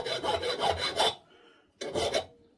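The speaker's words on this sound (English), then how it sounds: "we'll just put a chamfer around the top so it'll slide back in easy" A metal file rasps a chamfer around the top edge of an old stationary engine ignitor part: a run of close, quick scraping strokes, a brief pause, then a second short burst, with no talking.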